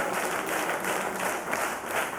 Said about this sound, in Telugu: అందరు చప్పట్లు కొట్టి స్తోత్రం చెప్తారా?